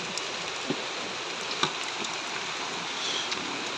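Steady rain falls outdoors as a dense, even hiss with a few louder drops spattering on a nearby surface, continuous throughout without voices.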